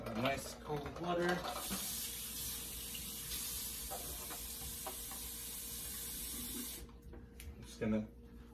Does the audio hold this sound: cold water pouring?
yes